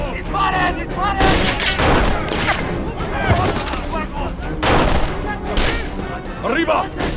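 A shootout in a dubbed animated series fills the scene with loud, continuous gunfire: dense bursts and rapid volleys of shots, while voices shout over the battle throughout.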